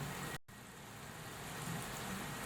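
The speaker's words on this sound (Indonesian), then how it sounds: "Lagi hujan nih di sini nih." Steady rain falling outdoors at a Vespa scooter service spot, a soft continuous hiss throughout with a brief dropout near the start, no talking.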